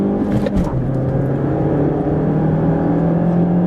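A 2014 Mazda3 with a 155-horsepower engine accelerates hard from a standstill, its engine note droning loudly and steadily from close by after a brief rougher start.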